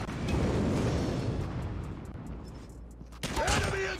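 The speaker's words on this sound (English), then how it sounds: "Friendly airstrike incoming." In Call of Duty, a friendly airstrike unleashes a loud, sustained rumbling barrage of explosions that slowly fades, followed by a fresh sharp blast with debris and ringing.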